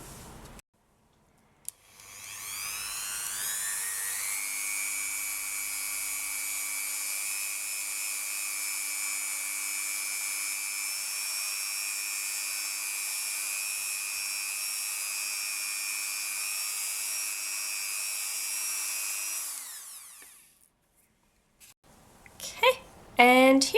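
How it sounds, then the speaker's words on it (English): A small rotary tool spins a cotton buffing wheel against a polymer clay faux agate earring piece, a steady high whine that starts after a click, holds evenly for about seventeen seconds, then winds down; faint handling noises follow. "tool with a little cotton buffing wheel, and that I'm going to use to bring it up to a glossy sheen"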